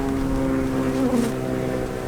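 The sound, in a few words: honey bees buzzing from a bee package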